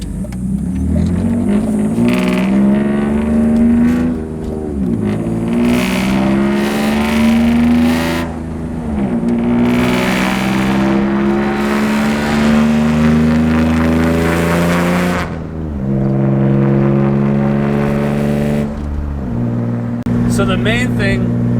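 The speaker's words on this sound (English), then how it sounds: "may have accidentally made probably one of the worst sounding BMWs" A BMW E36 engine with a badly built, swapped exhaust revs repeatedly in a shop, a loud raspy drone rising and falling through a long series of throttle blips, close and continuous.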